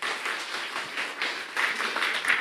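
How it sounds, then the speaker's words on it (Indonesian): Church congregation clapping for God during a sermon, a dense patter of many hands applauding steadily at moderate distance with no voices. "Tepuk tangan buat Tuhan."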